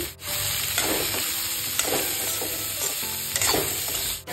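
Onion, garlic, ginger and papaya fry in oil over a medium flame, a continuous close sizzle broken by repeated scraping strokes of a spatula stirring the pan.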